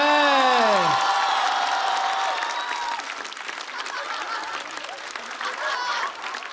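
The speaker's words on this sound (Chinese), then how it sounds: "掌声再次送给阿水" A studio audience at a stand-up comedy competition claps for a comedian; a falling electronic tone opens, then sustained applause and crowd noise continue at moderate loudness.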